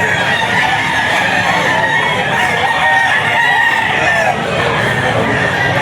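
A stag rooster crows loudly and close at a busy pet market, its drawn-out call carrying over a steady bed of chatter and other birds.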